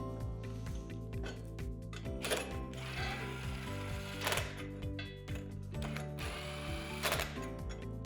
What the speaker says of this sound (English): Add the jam nuts all the way down the threads of the U-bolt.